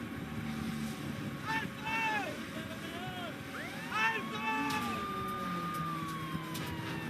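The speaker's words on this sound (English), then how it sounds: "arrancaron los motores y aceleraron" Motorboat engines drone steadily as they accelerate at night while rising and falling whistle-like tones sweep over them, with wind buffeting the microphone throughout.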